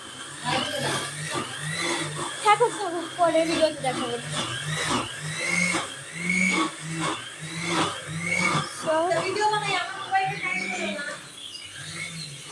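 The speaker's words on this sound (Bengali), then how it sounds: "ভিতরে ব্লেন্ডারের শব্দ হচ্ছে" A blender whirs steadily in another room of a house, a muffled background drone beneath a person talking close by.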